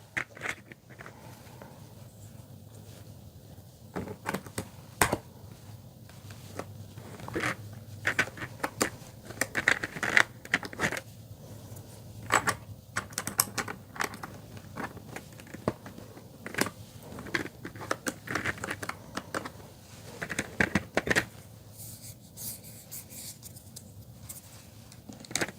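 Typing on a ZeroWriter Ink keyboard gives close, irregular bursts of sharp plastic key clicks and clacks with brief pauses, with no voices.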